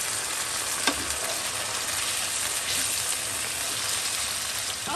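Wine is poured into a sizzling pan of chicken and mushroom sauce, giving a loud, even hiss with a brief splash-like burst near the start; no voices.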